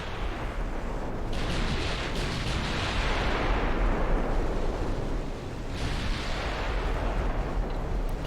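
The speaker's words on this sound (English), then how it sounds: "Torpedo detonation." Torpedo detonation in the naval warfare game Ultimate Admiral Dreadnoughts, set in a British 1900 campaign: a loud, continuous rumbling blast that roars and swells, with a second surge partway through.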